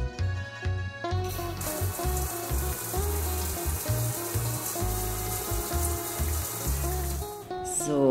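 A bathtub filling with water from the tap: a steady, close rushing and splashing stream running under playful children's music, ending with a brief sound at the close.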